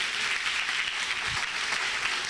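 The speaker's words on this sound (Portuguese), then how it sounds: "aplauda bem forte ao Senhor Jesus" A church congregation applauds loudly during a service, the clapping dense, steady and unbroken from start to finish.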